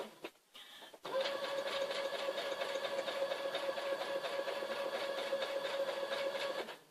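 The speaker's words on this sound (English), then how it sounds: "I like this sewing machine." After a brief pause, a sewing machine starts up and stitches a feather pillow, its motor whir and fast needle chatter running steadily up close for several seconds before stopping.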